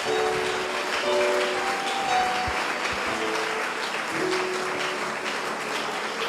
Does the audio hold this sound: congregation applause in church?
yes